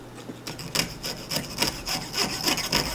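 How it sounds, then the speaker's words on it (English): Hand saw cutting wood held against a V block, a rhythmic series of rasping back-and-forth strokes, close and moderately loud, with no talking. "I'm going to take my saw and I'm just going to start sawing around that line I created"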